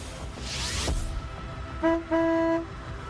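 Two short, loud car horn toots, the second held longer, sounding alone over faint street background.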